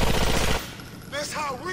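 A rapid burst of gunfire in GTA 4: The Ballad of Gay Tony rattles loudly for about half a second, then a voice speaks briefly afterward.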